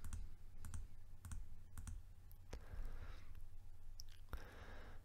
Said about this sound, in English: Left click 4 times.